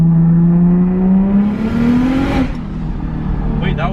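A big turbocharged BMW engine pulls hard under acceleration without misfiring, a loud steady drone rising in pitch for about two seconds, then settling into a rougher rumble as a voice speaks over it.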